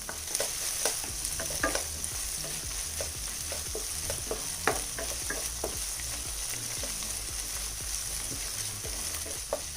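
Crushed ginger and garlic sautéing in a pan for green chicken curry, a continuous close sizzle with frequent rapid scraping and tapping of a spatula.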